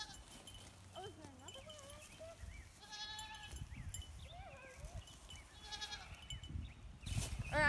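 Several goats bleat repeatedly at a moderate distance, overlapping wavering calls, with rustling and footsteps nearby.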